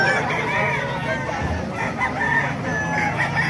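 Talisay and White Kelso gamecock roosters crow in overlapping, drawn-out calls close by, with a steady murmur of farmyard background noise and faint voices underneath.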